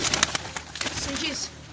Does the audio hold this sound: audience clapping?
no